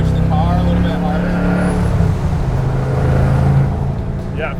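A supercharged 730 hp LSX-powered 1967 Chevy Camaro restomod on sticky Toyo tires accelerates hard up a highway on-ramp, its engine a loud, steady, throaty drone from inside the cabin, with voices over it.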